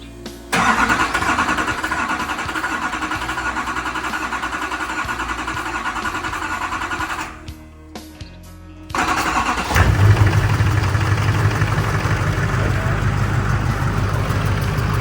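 An LLY Duramax diesel engine, just fitted with new injectors, cranks and catches, runs loudly for several seconds, cuts out briefly, then restarts and settles into a steady, rumbling idle close by.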